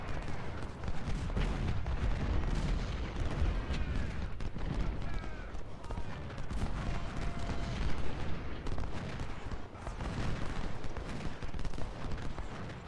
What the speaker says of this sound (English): I don't know what they're shooting at.